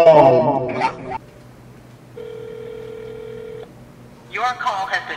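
A phone call is placed. A steady ringback tone sounds for about a second and a half between bursts of nearby talking.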